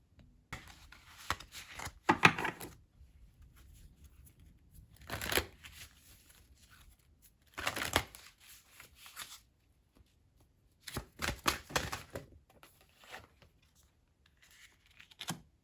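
A Kitsune tarot deck gets shuffled by hand in several separate bursts of quick papery riffling, with quiet pauses between each round.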